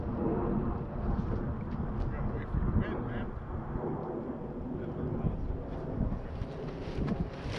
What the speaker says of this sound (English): Once this wind dies down, I'm glad.